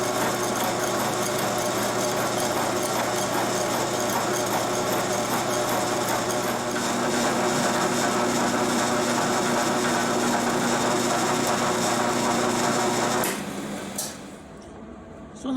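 A machine tool whines steadily while cutting a slot into a metal surface gauge piece, the tone shifting partway through, then running down and stopping near the end.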